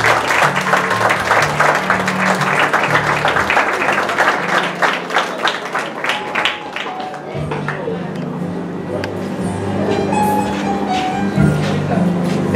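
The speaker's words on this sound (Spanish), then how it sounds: "Fuerte el aplauso para ella, por favor." Guests at a quinceañera celebration clap loudly and steadily, the applause fading somewhat as a voice speaks over a low hall murmur.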